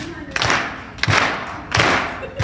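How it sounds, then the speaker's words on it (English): An audience claps a steady beat together, three loud massed claps spaced evenly about 0.7 seconds apart, close and reverberant in a hall at a puppet slam show. "I'm gonna have everybody clap a beat"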